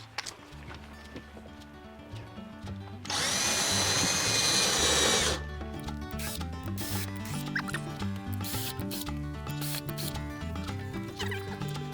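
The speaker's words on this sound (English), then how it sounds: "So it's just going to drill, see if there's enough battery power on this." A battery drill drives screws into a shed, a loud high whirring burst lasting a couple of seconds, followed by knocking and handling noises of the work nearby.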